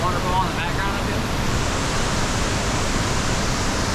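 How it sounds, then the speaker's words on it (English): Cumberland Falls waterfall roaring in a continuous, dense rush of water, loud and steady throughout, heard from close by with no talk over it. "you got the waterfall in the background of you"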